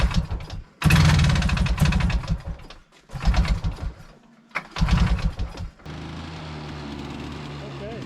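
A Polaris ATV engine cranks and catches in several loud bursts of rough running with brief gaps between them, then settles into a steadier, quieter idle-like drone that struggles to keep going.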